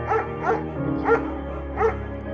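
Four barks from a German Shepherd dog in the Firewatch video game, evenly spaced and moderately loud over a faint background hum.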